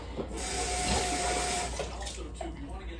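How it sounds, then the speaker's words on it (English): Water being poured into a Disney-themed Instant Pot that already holds ribs, liquid smoke and brown sugar, a steady close stream running for a few seconds with faint voices underneath. "now we need to just add the water, and then we can begin pressurizing"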